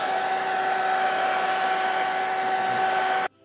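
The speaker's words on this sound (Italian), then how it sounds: "passiamo il phon a debita distanza, più o meno 40 cm di distanza" A hair dryer blows steadily on a wet galaxy painting from about 40 cm away, a loud continuous whirring hum with a strong tonal whine that holds for over three seconds before cutting off abruptly.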